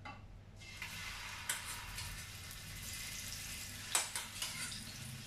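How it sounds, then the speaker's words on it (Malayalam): Prawns dropped into hot coconut oil in a pan set a steady, soft sizzle going, with a few clatters and scrapes rising above the frying. "നമ്മുടെ ഈ ചെമ്മീൻ എണ്ണയിലേക്ക് ഇട്ട് കൊടുക്കുക"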